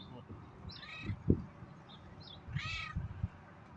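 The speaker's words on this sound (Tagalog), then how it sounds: "May pusa sa taas." A cat perched high in a tree gives two faint, distant meows over quiet outdoor background with low thumps and rustling.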